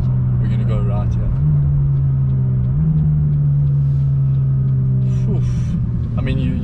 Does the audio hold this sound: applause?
no